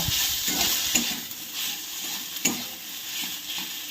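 Ginger and cumin paste being stirred as it fries in a pan, a steady hiss of sizzling with a few sharp scraping clicks of the spoon, close and continuous with no talking.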